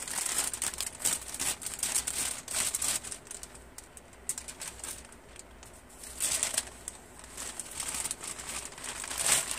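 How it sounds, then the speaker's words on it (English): A plastic package is ripped open, making crisp crinkling and tearing noises in irregular bursts, close by and fairly quiet, with no talking. "I have two more packages right here. I'm gonna open them real quick with you guys."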